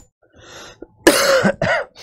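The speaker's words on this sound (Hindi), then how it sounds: "थोड़ी खांसी ज्यादा आ रही, पता नहीं क्या हो गया है।" A few harsh coughs close to the listener, one loud burst followed by a second shorter cough, after a softer breathy throat sound.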